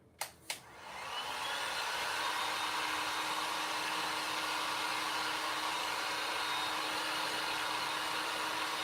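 A hair dryer blows steadily on green paint coating a DIY circle Christmas tree, starting after two sharp clicks and running as a loud, continuous broadband whoosh with a low hum, alone and close throughout.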